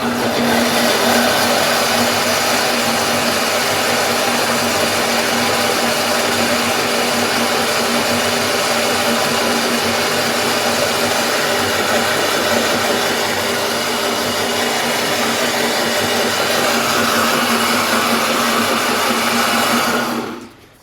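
A blender with its lid on mixes blueberry oat pancake batter of flour and baking powder, running as a loud, steady whir that holds for about twenty seconds before cutting off abruptly.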